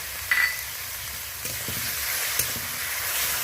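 Spices and grated tomato sizzle and fry in a pan with occasional stirring scrapes, a steady close hiss with no talk.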